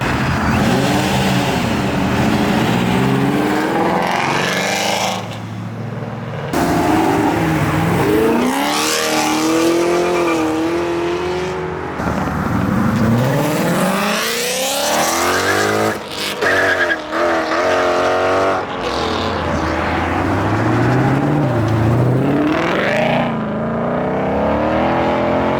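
Loud 1969 Camaro and other fast cars leaving a car meet, engines revving hard with repeated rising acceleration sweeps, gear shifts and tire squeal, close and continuous with brief gaps between passes.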